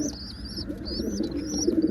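Soft, low pigeon coos rolling under chirps of other birds, close by and continuous.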